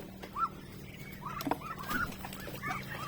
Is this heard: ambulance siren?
no